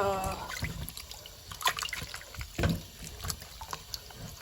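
Water trickles and splashes in brief, irregular bursts while meat is washed down in salt water, close and fairly quiet, with a voice talking at the start.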